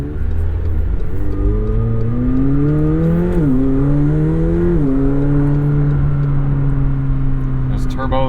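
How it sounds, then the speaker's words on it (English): A 2021 McLaren 720S accelerates hard, its turbocharged engine droning loud and close with rising, stepping harmonics as gears change, under a steady cabin roar while a voice talks over it. "There's turbos working away back there."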